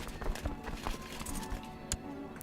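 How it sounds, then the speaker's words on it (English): Donkey noises in Crusader Kings II, heard as clip-clop hoof beats and faint braying over a busy game soundscape, moderately loud and continuous. "It's a very noisy donkey."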